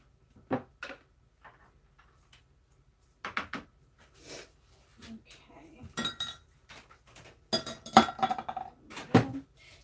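A coconut milk spatula scrapes orange chilli pepper soap batter, brought to light trace, out of a container, giving quiet, intermittent scrapes and small clinks against the vessel with pauses between strokes.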